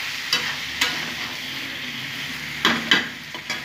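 Jackfruit and potato being sautéed in a pan for a vegetarian dish, with a steady soft sizzle under several sharp scrapes of a spatula stirring the pieces, up close and with no voices.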